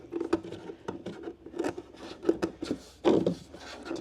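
Finish putty is scraped off a part of a Mazda-powered ducted fan light aircraft, a series of close, short rasping strokes in an uneven rhythm, with no talking.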